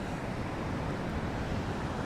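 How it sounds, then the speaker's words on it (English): Ocean waves and wind on a beach during morning surf fishing near San Diego, a constant broadband roar of surf with low wind rumble on the microphone, with no voices. "I don't think those waves are coming my way"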